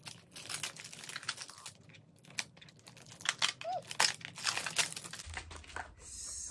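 Close crinkling and tearing of plastic packaging for teeth whitening strips, torn open with teeth in short, irregular rips and rustles, with no talking.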